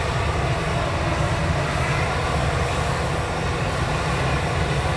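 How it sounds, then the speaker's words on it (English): Propeller airliner engines at Manchester Airport make a loud, continuous broadband drone that holds steady and unbroken with no pauses. "So you'll get the props now from the prop aircraft."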